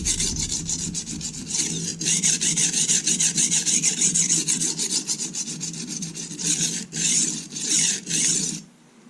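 A chef knife is sharpened on a Norton Crystolon oil stone with repeated rhythmic scraping strokes, steady and close, the grinding rasp pulsing back and forth alone before stopping.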